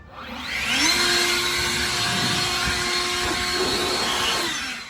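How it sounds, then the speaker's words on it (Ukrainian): DeWalt cordless battery-powered leaf blower spinning up and running, a loud steady whining rush of air with a rising motor tone at the start, held for several seconds, then easing off at the end. "Це бловер, така дуйка, щоб здавати пиль."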